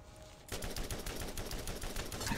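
Rapid automatic gunfire from a weapon in the video game Borderlands, a dense, unbroken burst of shots that starts abruptly and stays loud and close for a couple of seconds.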